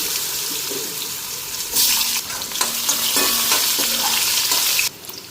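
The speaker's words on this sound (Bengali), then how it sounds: "তো আলুটাও ফ্রাই করে নিই একবারে" Potatoes frying in a pan with bay leaf and cumin, a loud continuous sizzle broken by several scraping stirs and clinks before it cuts off abruptly near the end; no voices.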